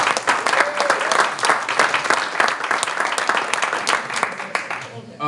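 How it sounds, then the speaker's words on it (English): Audience applause for a speaker at a chamber of commerce business breakfast, a loud, sustained round of many hands clapping that fades near the end, with faint voices mixed in. "So I think a round of applause for Melissa"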